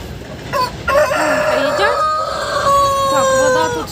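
A rooster crows loudly and close, a long drawn-out call, with hens clucking around it.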